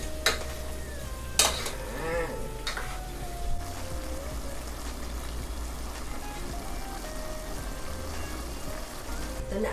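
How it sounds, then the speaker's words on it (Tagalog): Cooked shrimp is stirred into sautéed bottle gourd in a pan, giving a quiet, steady sizzle with a few soft scrapes and clinks from stirring. "since ang ating hipon ay cook na, pwede na natin siyang ihalo dito ngayon"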